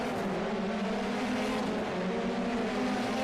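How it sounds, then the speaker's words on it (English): Open-wheel F3 race car engines at the Watkins Glen race start: a dense, steady roar of many engines revving together, loud and continuous with a sustained droning tone, no voices. "The engines are revving, the green lights are out, we're underway from Watkins Glen."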